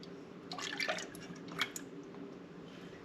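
Heavy cream and whole milk pour softly into a container, a faint, gurgling trickle with small dripping splashes, quiet and close throughout.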